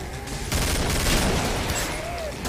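Rapid gunfire bursts in the shooter game Killing Floor as players shoot mutant clones, a dense loud fusillade of shots after a brief lead-in, with faint game noise beneath.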